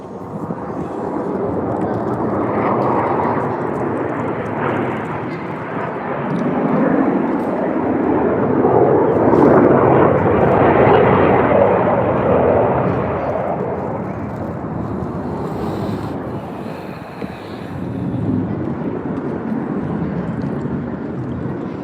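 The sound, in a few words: Blue Angels jet aircraft flying at an air show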